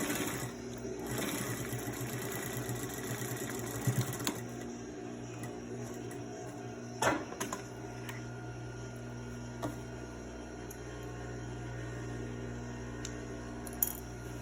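A sewing machine stitches across the long edge of a fabric face mask with a wire inside, running in a steady close mechanical whir with a few small clicks and knocks and no speech.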